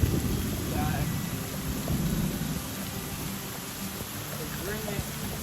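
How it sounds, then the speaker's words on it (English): Steady rain falling on a tropical fruit farm in Florida: a dense continuous hiss with low rumbling noise underneath, moderately loud and unbroken throughout, with no clear talking. "Even though it's raining"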